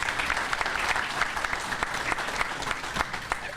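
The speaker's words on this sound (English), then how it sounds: "Let's give her a round of applause." Audience applauding at a naturalization ceremony in Buffalo, a steady, dense round of hand claps from a crowd that fills the whole moment without talk.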